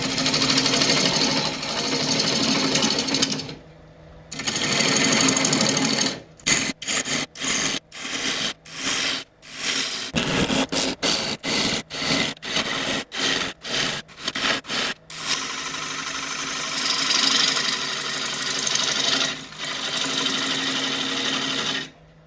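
Woodturning lathe gouge hollowing out a wood burl with rot in its centre, a loud rough scraping drone that breaks into a run of rapid stop-start cuts before steadying again.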